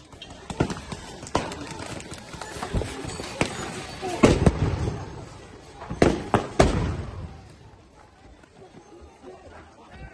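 Fireworks set off at a street protest in Portland, several sharp bangs and crackles bursting loudly amid crowd noise and shouting, with a cluster of close, strong blasts in the middle.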